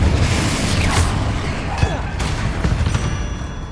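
Spell-casting combat in Hogwarts Legacy brings a rapid string of blasts, whooshes and crackling impacts, several sharp bursts layered over a rumbling low-end bed and stacked closely together.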